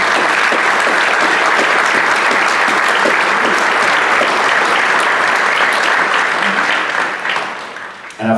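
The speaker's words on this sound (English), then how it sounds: "Let's give all these award winners a round of applause." Audience at an athletic awards ceremony applauds the award winners with sustained, dense clapping that holds steady for several seconds before tapering off near the end.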